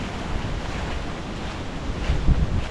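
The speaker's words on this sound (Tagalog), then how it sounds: "Lakas po ng hangin." Strong wind roaring and buffeting the microphone, a steady rushing noise that swells slightly toward the end.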